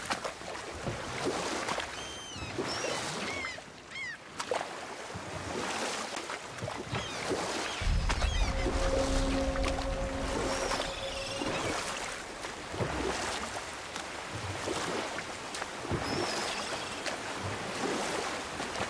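Rowing a boat in the video game God of War, with steady water washing and lapping against the hull and occasional oar splashes, under a continuous ambient wash.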